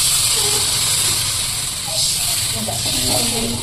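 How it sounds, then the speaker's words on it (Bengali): Water poured into hot fried spice masala for a vegetarian biryani, hissing and sizzling loudly and steadily throughout with a broad steamy rush and faint bubbling, no talk. "এবার এর সঙ্গে আমি জলটা ঢেলে দিচ্ছি।"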